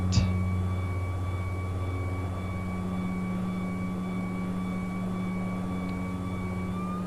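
Steady drone of a Saab 340 twin-turboprop airliner in X-Plane 11 at takeoff, with a constant engine hum, sustained propeller tones and a brief click at the start, no talk.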